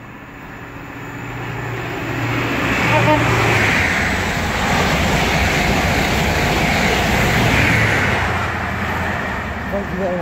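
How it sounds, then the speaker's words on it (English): A Virgin Trains East Coast Class 43 passes along the East Coast Main Line at Hitchin, its steady broadband roar swelling over the first few seconds and holding loud and close until the end. "the next train to pass by is going to be another Virgin Trains East Coast 43"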